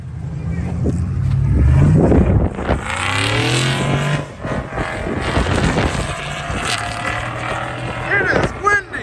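A 5.3-litre LS V8 in a Chevrolet Trailblazer revs hard outdoors, its pitch sweeping up and down through several loud pulls while wind buffets the microphone and people talk nearby.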